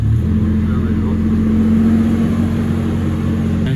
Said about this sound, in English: Now I'm going to go ahead and fire up the FJ.